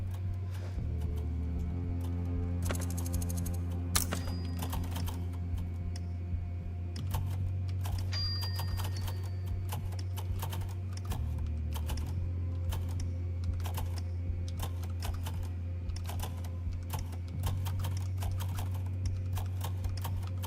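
Rapid clicky keystrokes on a computer keyboard run almost continuously through play of a typing video game, close and fairly quiet over a steady droning game soundtrack.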